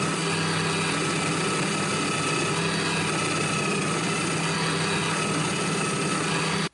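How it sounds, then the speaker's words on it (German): Drill boring straight through a screen-printing plywood board in a workshop, a loud continuous high-pitched motor whine with grinding texture holding steady close up from start to finish, then cutting off abruptly. "Ich bohre dann direkt auch hier durch die Siebdruckplatte"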